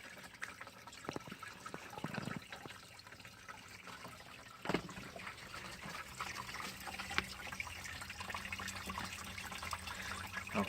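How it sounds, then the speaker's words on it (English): Natural spring water from the earth trickling into a bottle outdoors, a steady soft splashing and dribbling flow with a brief louder gurgle partway through, heard close and alone without voices. "Our first bottle of natural forged water."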